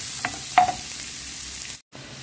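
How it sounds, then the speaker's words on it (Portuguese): Onion and pepper sautéing in a pan, a steady soft sizzle with a few sharp scrapes and taps of a spoon stirring, and a brief drop-out near the end. "Vamos mexer por um minutinho, só para dar uma murchada e dar uma refogada nesse temperinho aqui"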